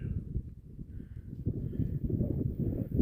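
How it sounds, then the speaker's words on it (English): Steady wind buffets the microphone on the summit of Mount Bromley, an old ski resort in Vermont, producing continuous low rumbling gusts that swell louder toward the end, with no talk. "Pardon the wind."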